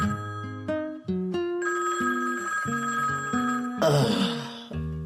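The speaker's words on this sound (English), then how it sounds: "there is a phone ringing from one room" A telephone rings in another room with a melodic, musical ringtone pattern of repeated tones, fairly clear and steady, with a brief noisy burst near the end.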